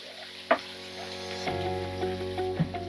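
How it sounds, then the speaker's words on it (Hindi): Chopped onions sizzle in hot salted oil in a pan, a steady frying hiss with a sharp crackle as they hit the oil and soft stirring clinks after, close and without talk. "प्याज डाल देते हैं, थोड़ी सी सौते कर लेते हैं इसे"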